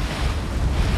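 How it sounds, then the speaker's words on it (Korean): Rough sea near a fish-farm barge, with a steady, loud roar of waves and gusting wind battering the microphone, no voices. "오늘따라 거칠어진 바다"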